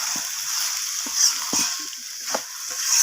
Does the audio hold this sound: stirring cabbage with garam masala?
yes